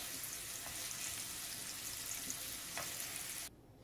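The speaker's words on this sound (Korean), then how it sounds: "당근도 너무 많이 볶지 말고 이런 식으로 살짝 익을 정도로만 볶아서 키친타올에 받쳐주세요" Carrots stir-frying in a pan give a steady close sizzle with a few soft scrapes of stirring, then cut off abruptly just before the end.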